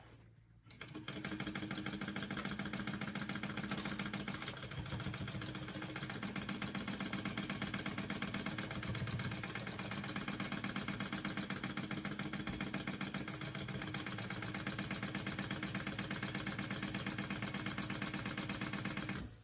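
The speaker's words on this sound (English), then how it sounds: "And then just sew the rest of the way around." Sewing machine running steadily for a long stretch as it stitches the seam around a shoulder bag, a continuous mid-pitched motor hum at moderate volume with no pauses.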